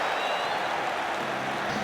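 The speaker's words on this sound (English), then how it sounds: "Suddenly the crowd are alive." Cricket crowd at a one-day international in England between New Zealand and England, roaring steadily after a wicket falls, a dense, sustained wash of cheering and applause that holds at full volume throughout.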